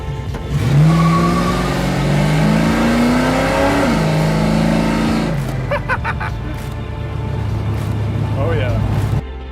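A 1970 Dodge Charger R/T engine revs loudly while driving, rising through the gears with climbing pitch, then drops to a rough idle burble as a person talks over it.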